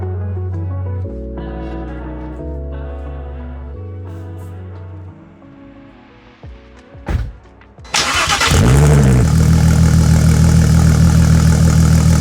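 A VR6-swapped Toyota MR2 Spyder with a 600 hp engine, heard close up. A smooth steady idle shifts pitch a few times, then the engine revs sharply and settles into a loud, rough, sustained drone as the car pulls out of a garage.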